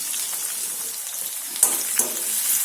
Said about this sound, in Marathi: छान आता आपण परतून घ्यायचं लसूण समजा सोनेरी होतपर्यंत आपण परतायचं